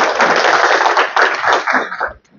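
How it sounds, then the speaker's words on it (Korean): Audience applause at a business seminar lecture, a dense, steady crackle of many hands clapping for about two seconds before tapering off abruptly into quiet. "큰 박수로 우리 강사님 모시도록 하겠습니다"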